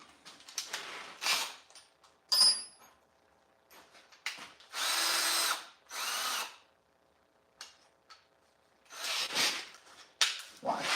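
Power drill boring a 13/32-inch hole for a plug weld on a tractor, in short repeated bursts of whining, grinding cutting separated by pauses, loud and close, with no talk.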